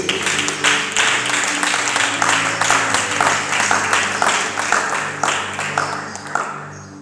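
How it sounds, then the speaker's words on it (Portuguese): A church congregation applauds, a sustained, loud wash of many hands clapping together in a reverberant room, with a low hum underneath. "Você pode aplaudir para a palavra de Deus?"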